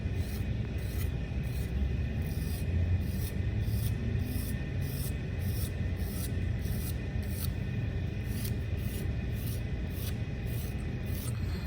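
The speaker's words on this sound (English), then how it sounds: "and this I am scratching a little bit deeper, and I'm scratching over and over again in the same spot" A tool scratches repeatedly over the same spot on the clay surface of a coil pot, making a steady, continuous close-up rasping with rhythmic strokes and no talk.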